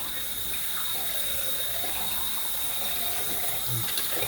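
A bathroom tap runs steadily for splashing water onto a head before shaving, giving a constant close hiss of flowing water with no voices.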